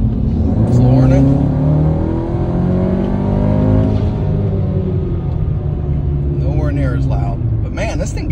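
A VW Golf R MK8 with a DBV2 4-inch downpipe exhaust under hard acceleration in comfort mode, a loud, steady rising engine roar with harmonic sweeps that fills the whole stretch, briefly easing near the end.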